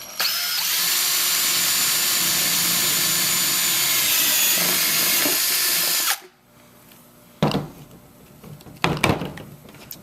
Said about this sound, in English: we just need to drill a 3/4 inch hole in the bottom of the tube